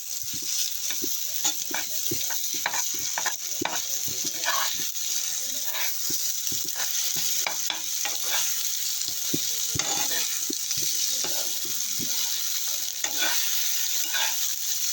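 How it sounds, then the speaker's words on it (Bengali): Egg being stirred into fresh handmade Korean-style noodles in a hot pan, with steady sizzling and frying under a continuous series of quick scraping utensil strokes, close and even throughout, with no talking. "দেখো এই ডিমটা আমি নুডলসটার সঙ্গে মিশিয়ে নিব।"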